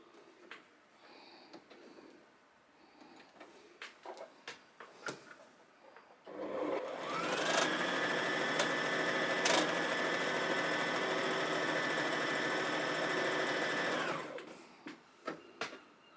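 Domestic sewing machine stitching a yellow fabric offcut: a loud steady motor whir starts after a few seconds of small handling clicks, runs for about eight seconds, then stops abruptly before more light knocks.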